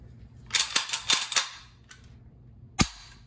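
A VZ58 rifle is safety-checked with its action cycled: a quick cluster of sharp metallic clicks and clacks from the handled rifle, close by, then a pause and one final loud snap.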